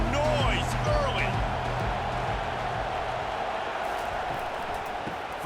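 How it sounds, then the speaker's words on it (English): Stadium crowd noise in EA Sports College Football 25 during an Auburn Tigers versus Alabama Iron Bowl rivalry game, a broad, continuous roar of a large crowd with scattered shouts, under a commentator's voice. "This crowd bringing the energy and noise early."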